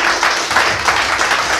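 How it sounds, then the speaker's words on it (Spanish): A church congregation at a quinceañera gives a brief burst of lively, dense applause, close and loud for a moment with no talk over it. "Denle un fuerte aplauso al Señor."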